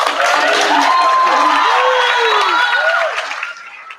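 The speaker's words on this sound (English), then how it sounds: "we can give them a round of applause" An audience at a school humanities symposium applauds with loud, dense clapping and a few cheers, sustained for about three seconds before fading away.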